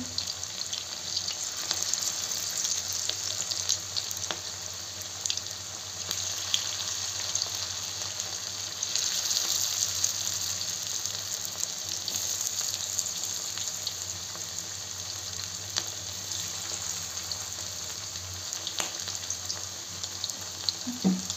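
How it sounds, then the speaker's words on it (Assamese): Chicken pieces frying in hot oil, a constant close bubbling sizzle that stays steady and fairly loud for the whole stretch with no voices. "ভালকে ভালকে এনেকে গৰম তেলত দিব"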